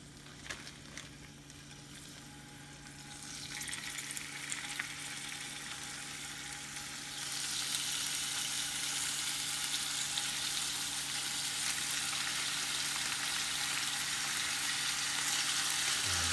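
Bacon slices frying in a pan, a faint continuous sizzle with crackle that swells and brightens partway through and then holds steady, with no voices.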